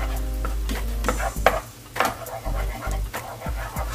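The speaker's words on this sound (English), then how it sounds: "So, lutuin na natin yung itlog dito." Egg cooking in a pan for crab fat fried rice, with a low hum underneath and intermittent spatula scrapes and clicks breaking through a moderate sizzle.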